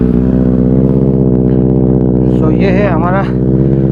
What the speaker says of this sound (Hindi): Benelli 600i जो with IXL X55 with double exhaust.